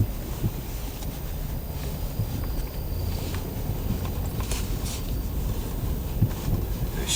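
Strong blizzard wind roars steadily across a snowy seaside street in Point Lookout, New York, a constant broadband rush with gusty swells, close and loud, with no voices.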